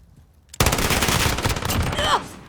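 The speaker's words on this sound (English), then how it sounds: "you turn this thing into one really hard hitting LMG" A belt-fed light machine gun firing in Call of Duty: Modern Warfare, a sudden loud burst of rapid, continuous shots that runs for about a second and a half, then stops.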